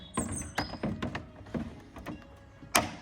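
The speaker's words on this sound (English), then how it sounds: "As you heard that click a second ago, that was it clipping in place" An LED headlight unit on a pre-facelift Vauxhall Corsa being pushed into its mounting clips, several close plastic knocks and taps ending in one sharper click, with no talking.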